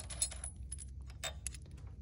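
Metal tools clink and jangle in short bursts, handled nearby and quietly.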